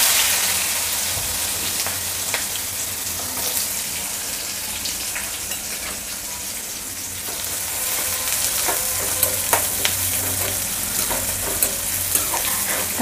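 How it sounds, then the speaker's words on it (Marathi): Onion frying in oil with asafoetida and curry leaves over medium-high flame, giving a loud continuous crackling sizzle with occasional stirring scrapes throughout. "कांदा मीडियम टू हाय फ्लेमवर चांगला मऊ करून घेऊया।"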